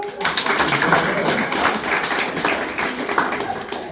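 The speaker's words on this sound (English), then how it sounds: "y'all go ahead and clap" Wedding guests clap for a member of the wedding party, with steady, dense applause filling the room, close and fairly loud throughout, and scattered voices mixed in.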